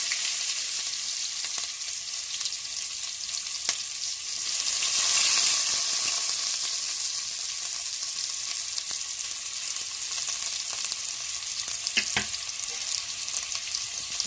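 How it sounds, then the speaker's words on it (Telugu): Chopped garlic with cardamom fries in a pan for a homemade mushroom curry, giving a steady, close sizzle that lasts throughout, with a few brief stirring clinks and no voices. "దాన్ని దోరగా వేయించుకోవాలి. కొంచెం రెడ్డిష్ కలర్లు వచ్చేంత వరకు వేయించుకోవాలి."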